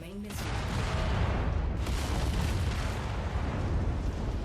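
Missiles explode in the MechWarrior 5 video game: a sharp blast at the start gives way to a sustained, loud, rumbling roar of explosions and battle noise, with a second surge partway through.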